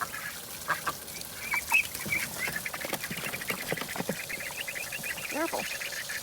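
Ducks and young ducklings chatter and quack in an outdoor run, a busy overlapping mix of peeps and short quacks nearby, with some talk in the background.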